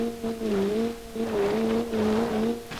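A simulated car drives and slides in the BeamNG driving game, its engine a steady, close droning hum whose pitch wavers up and down as it revs through the turns, with faint tire noise underneath.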